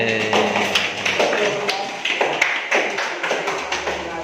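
Children in a Grade 4 classroom clap their hands, irregular claps and taps close by and fairly loud, with some children's voices mixed in.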